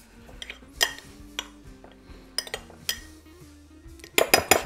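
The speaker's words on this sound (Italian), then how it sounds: "questo qui è succo di lime, arancio e limone, ne inseriamo un pochino mescolando" Utensils stirring a citrus marinade of lime, orange and lemon juice into tuna tartare, with light clinks and taps against a dish building to quick, bright clatters at the end.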